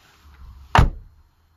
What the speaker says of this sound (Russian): Проверяем окончательную регулировку задней двери.